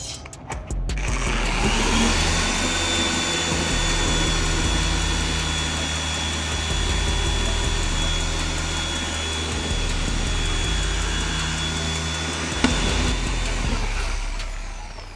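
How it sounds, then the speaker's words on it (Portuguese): SGT-5149 car polisher running loud and steady on a car's clear coat while held under pressure, a continuous close motor whine and buffing hum with a brief click near the end. "Essa máquina é muito forte, então por mais que você mantenha a pressão necessária para cortes em alguns vernizes que são muito mais resistentes, ela não vai parar."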